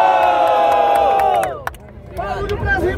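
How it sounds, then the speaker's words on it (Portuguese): A big crowd at a freestyle rap battle yells and cheers loudly, the roar dipping briefly before rising again with scattered shouts and whoops. "Barulho pras rimas do Kant"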